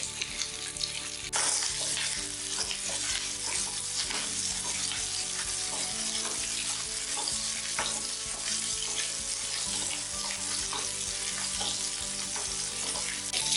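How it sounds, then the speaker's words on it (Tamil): Garlic and small shallots sautéing in a pan for a multigrain mattai rice meal, a steady loud sizzle and fry with occasional stirring scrapes running throughout without a break. "பூண்டு போட்டு வதக்கிக்கலாம்."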